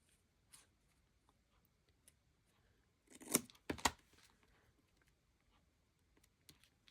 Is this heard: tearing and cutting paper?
yes